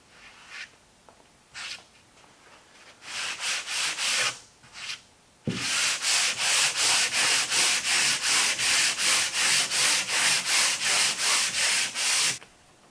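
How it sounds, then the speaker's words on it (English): Sandpaper of 150 grit rubs across painted fiberglass, first in a few scattered strokes, then in a steady run of rapid, even back-and-forth scrapes, loud and close. "I'm just going to hit this with 150 grit real quick because it's a little rough"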